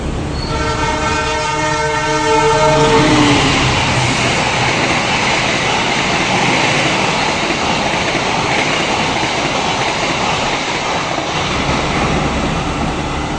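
The Sembrani train from Jakarta Gambir to Surabaya Pasar Turi passes the halted Kedung Sepur at Gubuk station, with a loud horn blast, then a sustained roar and clatter of rolling cars, close and steady.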